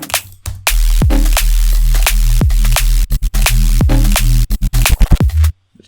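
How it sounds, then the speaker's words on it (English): An electronic music track with sidechain-triggered edits chops a sustained bass-heavy synth into rhythmic stutters, loud and close, with abrupt gated cuts and pulsing gaps building toward a sudden stop. "it's essentially just using the sidechain trigger in places where there aren't drums to create these rhythmical stutters"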